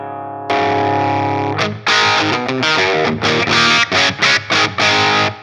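A loud, heavily distorted electric guitar through a Soldano SLO 100 tube amp with a Mr Scary Hot Mod rings out a sustained chord, then plays choppy, rhythmic chords with brief gaps between them.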